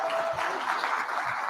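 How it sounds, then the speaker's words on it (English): Applause from a conference audience welcoming a keynote speaker from a cannabis company onstage, a steady, even wash of clapping throughout with no voices on top. "Everyone give a round of applause, please."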